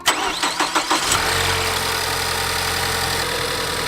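A Ford Fusion engine cranks with a few rhythmic turns, then catches and settles into a loud, steady running drone close by, with no voices.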